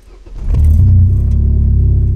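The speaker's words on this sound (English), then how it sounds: "The exhaust system, which was deployed not by me, gives a bit of a sense of a sports car." A car with an aftermarket sports-style exhaust revs up close, a loud, deep, throaty burble that swells and holds steady.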